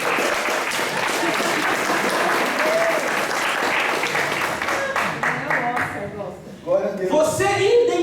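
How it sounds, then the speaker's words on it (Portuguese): A church congregation applauds loudly and steadily, a dense wash of clapping that thins toward the end as a few voices and sung tones rise over it. "Você pode aplaudir Deus pela vida."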